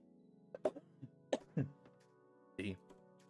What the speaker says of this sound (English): You get one good cough in there every now and then.